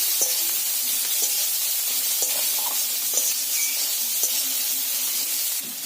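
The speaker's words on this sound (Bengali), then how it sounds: "পেঁয়াজটা নেড়ে করে ভেজে নিয়েছি" Chopped onions, about three, frying and being stirred in a pan with oil for a fish and bottle-gourd curry, giving a steady close sizzle with occasional spoon scrapes and knocks.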